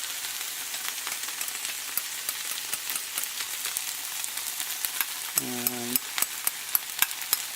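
Onions and spices for a chicken spinach curry sizzle in a pan and are stirred in repeated scraping strokes. A brief voice comes in near the end over the steady frying.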